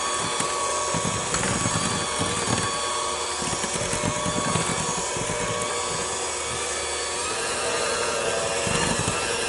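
A stand mixer beats chocolate chip cookie dough after its power has been raised, a loud, steady motor whir with rough grinding texture and faint rhythmic churning, continuous and close.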